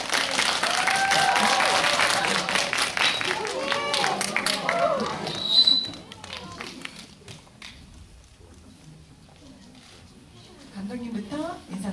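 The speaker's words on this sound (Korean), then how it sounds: "큰 박수로 말씀해 주시기 바랍니다." A cinema audience claps enthusiastically for several seconds as a film's director and actors come on stage, then the applause fades to a quiet room and a brief smattering of clapping returns.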